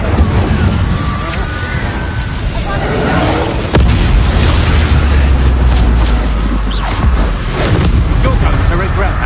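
An Incendio fire spell cast during combat in Hogwarts Legacy: a sudden loud fiery burst midway, followed by a sustained low rumbling roar, set within dense, continuous game battle noise with voices.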